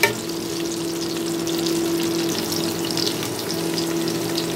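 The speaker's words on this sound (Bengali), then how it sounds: "2 থেকে 3 মিনিট একটু ভালো করে এই তেলের মধ্যে একটু ভেজে নেব, যাতে আলুটা একটু নরম হয়ে যায়" Potatoes fry in hot oil in a pan, giving a steady, close sizzle that holds unbroken throughout, with a faint tonal hum underneath.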